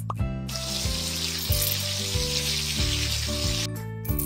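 Running water sizzles steadily over a bouncy looping game tune, like a rinse from a tap, lasting a few seconds, as a hair mask is rinsed in the beauty salon game Sweet Beauty Salon.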